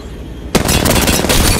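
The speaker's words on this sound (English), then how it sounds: "I'm grenading." An Apex Legends grenade blast hits suddenly after a quiet half-second, a loud broadband burst that rolls on with crackling, gunfire-like debris noise.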